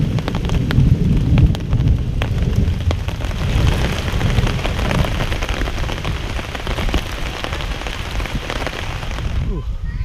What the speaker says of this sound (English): The rain's finally starting to let up a bit.